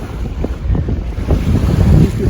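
A sailing boat heading through Calf Sound off the Isle of Man in strong wind, heavy gusts buffeting the microphone over the rush of water along the hull, loud and close.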